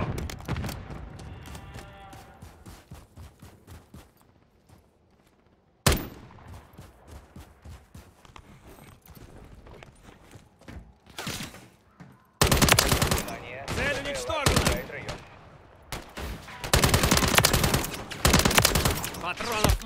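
Machine gun fire in the Commandos video game, with sustained rapid bursts, a louder stretch near the start, and heavy dense firing in the second half, mixed with speech.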